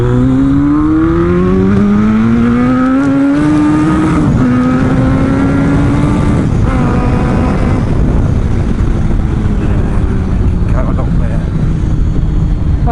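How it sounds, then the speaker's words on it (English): A loud motorcycle engine revs hard and climbs in pitch, bouncing against the rev limiter with harsh stutters, then holds a steady drone with wind rush throughout. "Oh, we hit the rev limiter."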